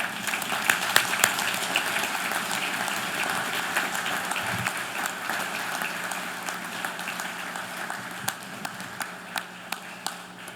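Applause for Brazil and President Lula at the G20 closing and handover ceremony, a broad wash of clapping with scattered sharper individual claps standing out, thinning toward the end.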